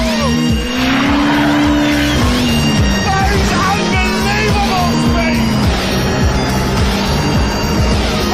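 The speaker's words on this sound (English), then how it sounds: "I have never ever driven anything that accelerates so fast." Engine of a very fast car accelerating hard, loud and close, with a rising engine note and tire squeal heard throughout.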